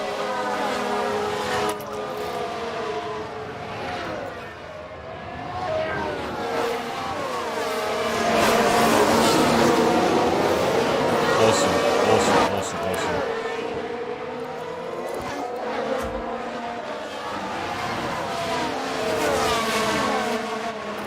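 Racing cars lapping a track in the F1 Manager 2022 video game, their layered engine whines rising and falling in pitch as they run in a continuous, fairly loud stream throughout.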